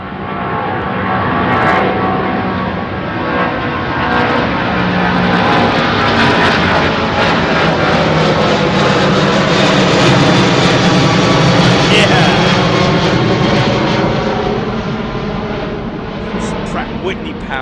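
An American Airlines Boeing 777-200 departs London Heathrow runway 09R, its engines producing a loud, sustained roaring rush that swells and holds for many seconds before easing slightly, with people talking over it.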